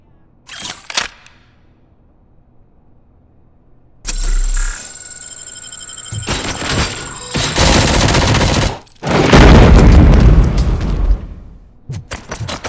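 Bursts of gunfire and heavy impacts from the Robocop: Rogue City action game on PlayStation 5, coming in loud clusters separated by short silences, with a dense sustained volley toward the end.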